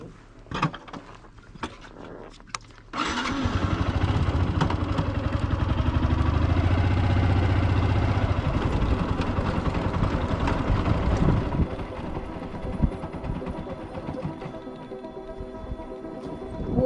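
A motorcycle on a snowy mountain road in Arunachal Pradesh, ridden in second gear, bursts into a loud, sustained engine roar after a quieter start, then eases to a lower rumble with wind buffeting the microphone.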